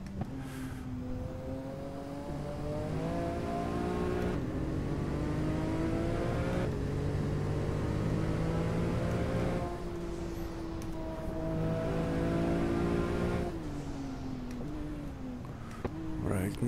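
Porsche GT2 RS MR engine on a hot lap in Portugal, loud and close, with rising revs through the gears, sharp shifts and drops in pitch near four, ten and fourteen seconds, and someone talking over it.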